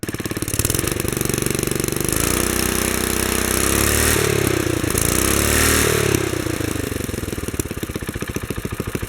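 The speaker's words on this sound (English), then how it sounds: "Here it is with the engine revving too high." A Wheel Horse 704 lawn tractor engine runs loud and close at a high, strained over-rev from a faulty governor spring, its pitch wavering up and down before settling into a fast, rattling idle.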